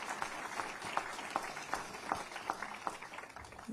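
A town hall audience gives a round of applause. Sparse, fairly faint rhythmic clapping carries on steadily, heard at a distance with no voices over it.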